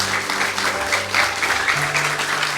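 Audience applause at a church youth fellowship games gathering, dense steady clapping filling the room for a few seconds with some faint voices underneath.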